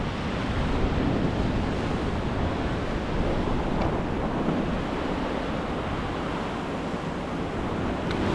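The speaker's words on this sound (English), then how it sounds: "it was just a big wave splashing all over you" Ocean waves surging and splashing over a rock fishing ledge on the South Coast, a continuous loud roar of wash and spray with heavy wind buffeting the microphone, no voices.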